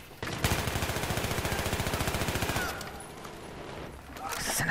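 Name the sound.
gunfire from a weapon in Battlefield 3 video game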